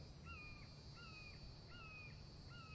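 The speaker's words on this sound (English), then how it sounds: "I hate that freaking bird." Crow caws in the video game The Infected, four harsh calls spaced evenly about every half second over a steady low game ambience, nearby and moderately loud, with no voice.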